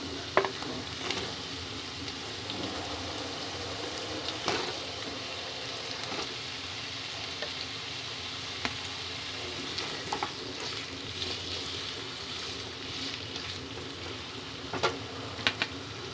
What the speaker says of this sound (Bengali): প্রথমে আলুগুলো ভালো করে ভেজে নেবো, লাল লাল করে।